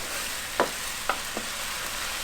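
Onions fry alongside chicken in a pot on a medium double burner, giving a steady close hiss broken by a few faint pops and stirring clicks, with nobody speaking.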